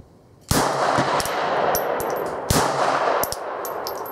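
Two loud Glock pistol shots, one near 0.5 s and another near 2.5 s, each ringing out with a long echoing tail, plus a few faint metallic clinks of spent casings. No one talks.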